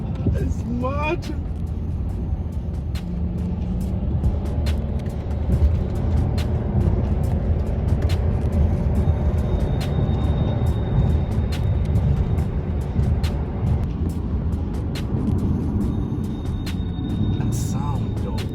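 A Mercedes E-Class with G-Tronic transmission drives in Sport Plus mode, giving a steady engine and road rumble from inside the cabin. The drone runs throughout with scattered clicks and ticks on top.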